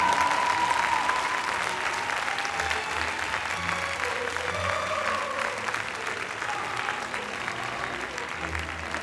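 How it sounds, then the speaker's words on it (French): A crowd at the Saut Hermès CSI 5* show jumping event in the Grand Palais applauds the Prix du Grand Palais winner, with a sustained, dense roar of clapping that fills the large hall and eases slightly toward the end. "Allez, redoubler d'applaudissements,"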